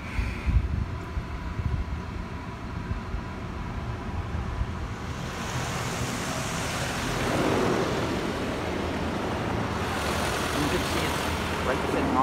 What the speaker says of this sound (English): And now we're gonna get the fresh water rinse.